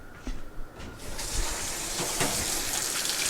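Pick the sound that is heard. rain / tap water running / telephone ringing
tap water running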